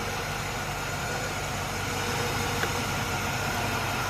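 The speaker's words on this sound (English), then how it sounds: "Good sounding engine" A 1996 Chevrolet Impala SS with its LT1 V8 idling, a steady continuous rumble heard up close without any break or revving.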